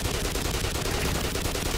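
Rapid gunfire from the video game Black Mesa, loud and continuous with dense overlapping shots across the whole stretch and no break.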